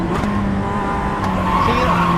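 Steady car engine drone while driving, with a continuous mid-level hum and faint tyre or road noise throughout, no talking.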